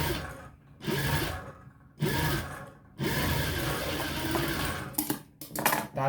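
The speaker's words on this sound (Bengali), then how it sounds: "সেলাই করে দিন" A sewing machine stitching a blouse runs in three close, loud bursts of whirring, each broken by short pauses, ending in a few quick stop-start runs.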